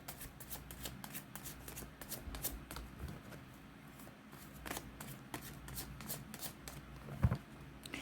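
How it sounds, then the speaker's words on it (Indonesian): Tarot cards shuffled steadily by hand during a love reading, a continuous riffling patter of paper cards with soft irregular slaps, close and moderately quiet, with a sharper knock near the end. "sambil saya baca doa dan saya kocok kartunya"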